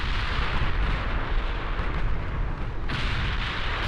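Heavy naval gunfire from battleships, built as battlecruisers, in the naval warfare game Ultimate Admiral Dreadnoughts: a dense, continuous rumble of booming salvos with no separate shots standing out.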